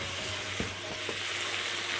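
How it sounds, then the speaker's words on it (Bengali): Duck curry spices, including cumin powder and red chili powder, are stirred in a frying pan, giving a close, continuous sizzling hiss with faint scraping underneath. "1 টিস্পুন লাল মরিচের পাউডার দিয়ে আবারও একটু নেড়ে নিচ্ছি।"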